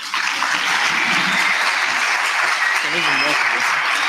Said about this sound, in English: Let's give presenters of Commission 1 a good round of applause, colleagues.